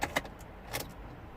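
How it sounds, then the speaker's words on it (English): Keys click in the ignition of a Ford Galaxy as it is switched on, with a couple of sharp metallic jingles followed by a soft electrical whir, close and quiet inside the car. "Let's turn the ignition on."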